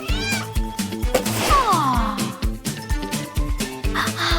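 A cartoon kitten gives a few bright, rising-and-falling meows at close range over a bouncy, steadily thumping music track.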